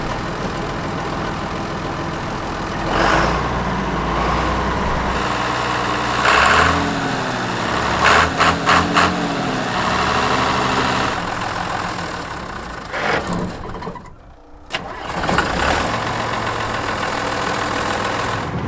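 An old abandoned combine harvester's engine runs steadily as the machine creeps slowly, a loud continuous mechanical rumble with a few sharper bursts and a brief dip near the end.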